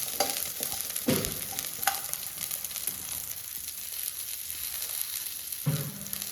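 Small shallots sauté in a hot pan with a continuous crackling sizzle. Several sharper scrapes and knocks come from a spatula stirring them, close up with no voices.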